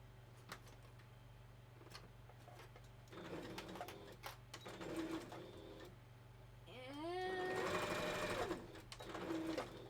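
A sewing machine stitches a seam on fur fabric. It runs in close bursts of rapid mechanical clatter, with short pauses between the runs and a longer, louder run near the end. No one talks.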